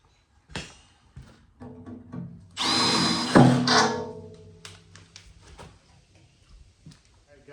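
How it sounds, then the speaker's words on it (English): A few short taps and clunks, then a drill whines through material with a step bit for about two seconds, followed by quieter handling noises. "So I'm gonna go all the way through is what it says to do."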